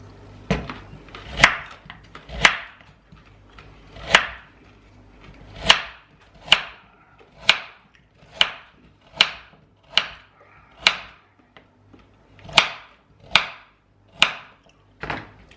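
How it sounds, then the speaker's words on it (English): Knife chopping carrots into bite-sized pieces on a board, a series of about fifteen sharp, close thuds spaced roughly a second apart with brief pauses between groups, no talking. "So, just get the old carrots a chop."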